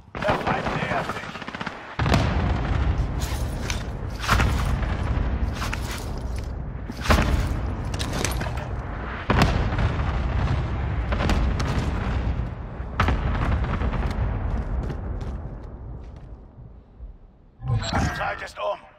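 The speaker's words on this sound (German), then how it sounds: "Ziel für Luftschlag markiert." Airstrike explosions in a video game, heavy booming blasts mixed with rapid gunfire that roll on almost continuously at high level, stop briefly, then return at the end.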